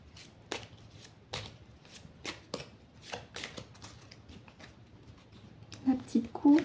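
A deck of oracle cards is shuffled by hand in soft, papery bursts, several quick riffles and slaps spaced irregularly, close and quiet, with a voice coming in briefly near the end.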